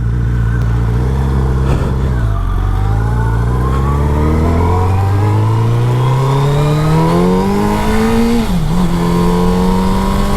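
A first-generation Suzuki Hayabusa engine revs past 8,000 rpm, its pitch climbing steadily to a high whine, briefly dipping, then holding loud and close.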